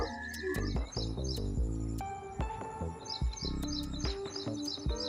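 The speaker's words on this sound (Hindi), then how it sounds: "और भी कई तरह के पक्षी बोल रहे हैं यहाँ पे" Various birds call outdoors near a flock of egrets in a quiet field, with repeated sharp chirps and tweets over a steady insect hum, fairly close and continuous.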